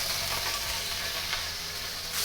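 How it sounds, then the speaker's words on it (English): Shrimp dropped into hot oil in a wok give a loud, dense, continuous sizzle and hiss, close up and unbroken for the whole short moment. "Drop in my shrimp."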